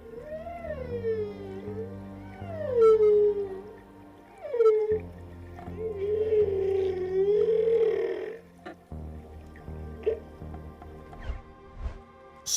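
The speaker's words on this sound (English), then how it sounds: "he encountered two humpback whales, and right then they were singing an incredibly touching deep sea song to each other" Two humpback whales sing underwater, long moaning calls that rise and fall in pitch and overlap with deep rumbling tones, heard close and clear for several seconds.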